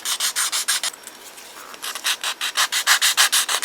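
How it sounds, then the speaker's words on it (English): A sanding pad rubs back and forth along the curved edge of a model car trunk lid, with about a dozen quick, close, even strokes, a brief pause, then a steadier run of scraping passes, heard alone. "We'll take our sanding pad for the curved area and just follow it"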